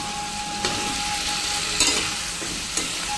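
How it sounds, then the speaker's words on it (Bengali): Boiled elephant-foot yam, precooked with salt and turmeric, is tipped into frying spices in a pan and stirred: a steady close sizzle broken by three brief scraping clatters, with no voices. "সেই ওলটা এখন দিয়ে দেব।"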